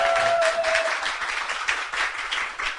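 A large live audience at a public broadcast event claps and cheers in a continuous loud wave of applause, steady throughout with a brief whistle-like tone near the start.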